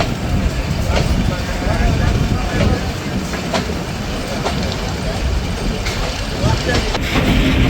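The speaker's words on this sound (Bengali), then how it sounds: "ট্রেনটি নির্ধারিত সময়ে রহনপুর রেলওয়ে স্টেশনের দুই নম্বর প্ল্যাটফর্ম ছেড়ে যাচ্ছে" Departing from platform two at Rohanpur railway station, a commuter train rolls on with a continuous low rumble and light rhythmic wheel clicks, steady and fairly close for several seconds.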